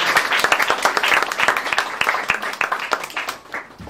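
At an Armenian church Saturday school, a gathering of parents and teachers claps for the children, a brisk burst of close, lively applause that carries on for a few seconds before thinning out.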